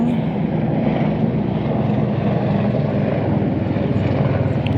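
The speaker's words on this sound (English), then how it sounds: "there's a helicopter." A helicopter flies overhead outside a plant nursery, its steady, loud rotor and engine drone filling the whole stretch with no talking.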